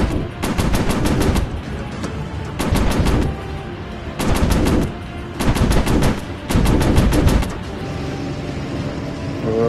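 Machine gun fire from World War II fighter planes in a VR combat game, heard as five loud sustained bursts of rapid shots of about one second each, with engine drone continuing steadily between the bursts.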